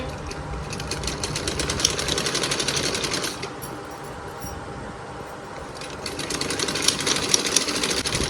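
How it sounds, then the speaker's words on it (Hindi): A sewing machine stitches clothes at home, running in a steady, fast mechanical whir at moderate volume that eases slightly midway and then picks back up, with a few faint clinks over the top. "तो मैंने मशीन उठाई और अभी कर रही हूँ कपड़े सिलाई"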